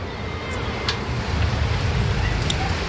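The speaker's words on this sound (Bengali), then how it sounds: "দেখো বৃষ্টি হচ্ছে" Steady rain falling, a soft continuous hiss with low rumbling texture and a few brighter drops, fairly close and unbroken throughout.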